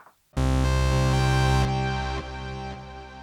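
A Bass Station 2 analog synthesizer starts a loud, harmonically rich held tone with delay and reverb switched on, then steps down in pitch and fades slightly as echoes and reverb tails linger.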